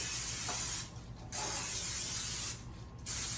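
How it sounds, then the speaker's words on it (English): Two bursts of cooking spray hiss out close by onto a nonstick baking pan, each lasting about a second, separated by short pauses with quiet background noise. "I am going to spray my pan even though it is nonstick."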